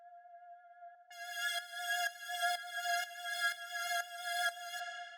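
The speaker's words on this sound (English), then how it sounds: "the first sound that I have here is this drone" A sustained synth drone holds a steady tone in a melodic techno track at 124 BPM, then rich bright harmonics swell in around the first second, pulsing in a regular rhythmic chop to the end.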